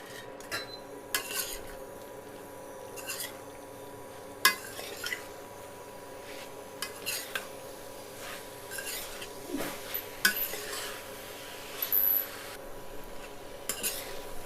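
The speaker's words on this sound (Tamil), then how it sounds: "நல்லா கிளறி விடுங்க." Mint and coriander leaves being stirred in a pot for pressure-cooker mutton biryani, with repeated scraping and clinking of a spoon against the metal pot over a low background hum, steady and close.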